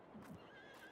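Horses in the Farming Simulator 22 video game give a short whinny, with brief hoof clip-clops beneath, heard alone and fairly faint over about a second.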